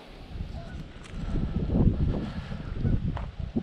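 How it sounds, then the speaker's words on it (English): Gusty wind blowing outdoors beside water during tenkara fishing near a tree, a steady rumbling buffet that swells in the middle and stays loud throughout, with no talking. "Hopefully this wind dies down."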